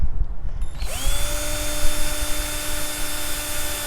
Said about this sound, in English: So let's go ahead and pre-drill real quick.